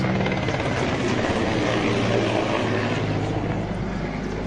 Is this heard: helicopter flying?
yes